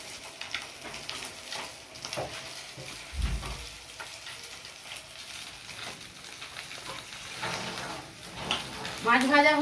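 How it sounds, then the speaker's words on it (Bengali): Tilapia pieces fry in hot oil, a steady crackling sizzle with soft stirring scrapes, under a voice talking in the background. "মাছ ভেজে নিলাম"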